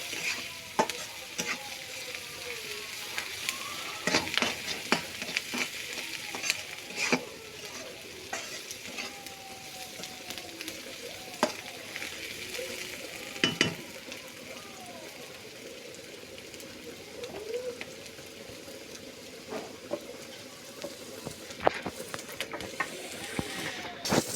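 Onion and green chilli frying in a pan until brown, with a constant hissing sizzle under frequent scraping and clattering strokes of a spatula, close and busy throughout.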